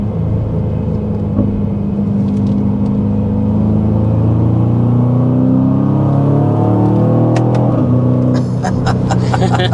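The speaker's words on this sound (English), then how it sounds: "it's actually allowing you to hear that beautiful V8 engine note" A deep V8 engine of a 2025 Aston Martin DBX 707 revs and shifts, its rumbling note rising and falling under a faint voice, with a smooth whirring pitch change near the end.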